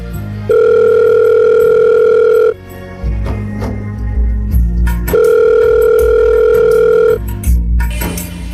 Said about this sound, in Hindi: अभी फोन करती हूँ बेटे को